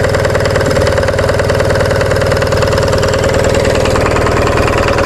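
A rusty Onan diesel generator engine runs below rated speed, a steady close mechanical chug with rapid regular knocking pulses and a constant hum, loud and unbroken throughout.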